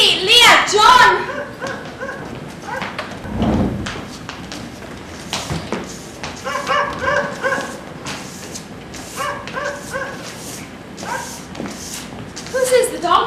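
A dog barks and yips in a yard during a high school stage production, short bursts scattered through the scene, heard alongside actors' voices and footsteps on stage.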